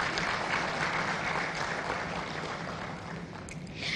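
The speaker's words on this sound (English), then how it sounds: "Can we give him a round of applause," An audience applauds a guest professor at a formal event, steady dense clapping throughout, moderately distant and fairly soft, with no talk over it.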